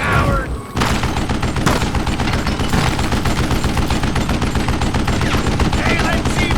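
Rapid, dense gunfire fills a Call of Juarez: Gunslinger shootout in Mexico: loud, continuous shots and bursts after a brief lull at the start, with voices faintly mixed underneath.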